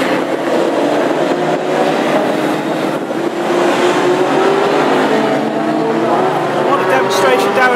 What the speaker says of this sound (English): Here comes Darren now, he's got the dive on the outside and shoots on by